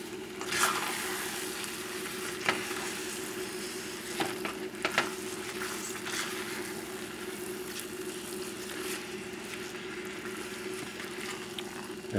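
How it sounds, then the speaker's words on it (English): Shrimp and saffron risotto simmers and sizzles in a pan with a steady frying hiss and an occasional stir or scrape, close and continuous. "It's simmering. Everything in there is hot."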